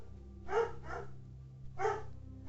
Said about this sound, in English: all the dogs are out and they're all barking at each other